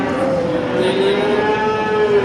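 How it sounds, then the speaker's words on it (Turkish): A cow with a male calf at a livestock cattle market lets out one long, loud, close moo that fills the whole moment, steady and drawn out. "Erkek buzağılı inek."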